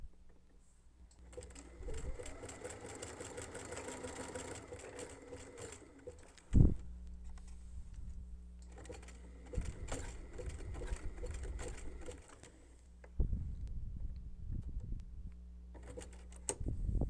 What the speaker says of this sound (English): Basically, I just sewed a knot there.